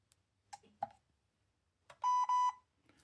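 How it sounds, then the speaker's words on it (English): Two short electronic beeps in quick succession, sharp and clear, from an ORCA 800 Brushed v2 speed controller entering manual calibration mode, after a few faint clicks and small handling noises. "That double beep says it's in the manual calibration mode"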